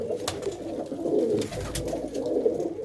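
Pigeons coo softly in repeated, rolling calls from nearby loft birds, with faint background noise between the phrases.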